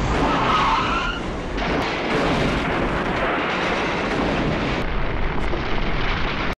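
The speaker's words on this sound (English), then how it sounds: "Vincent crashes and damages the car in Pulp Fiction" Screeching tyre skid and heavy crunching impact as a car driven by Vincent crashes in a Pulp Fiction scene, a loud, dense, continuous burst of noise lasting several seconds with no talk.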